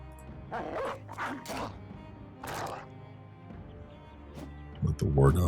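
War dogs in the video game Battle Brothers give several short yipping barks, with a louder burst near the end, under game effects and a talking voice.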